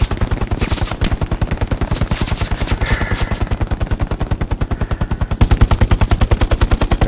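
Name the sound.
machine gun fire in a video game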